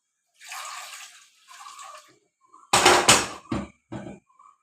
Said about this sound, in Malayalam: അര ഗ്ലാസ് പാൽ ഒഴിച്ചിട്ടുണ്ട് അര ഗ്ലാസ് വെള്ളം